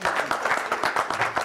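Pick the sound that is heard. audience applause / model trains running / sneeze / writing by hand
audience applause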